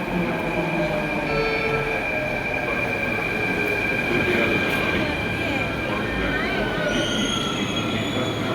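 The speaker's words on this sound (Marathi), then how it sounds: "आली मेट्रो" A Mumbai metro train pulls in with a continuous loud rumble, steel wheels squealing in high drawn-out tones toward the end, with voices faintly mixed into the steady rail noise.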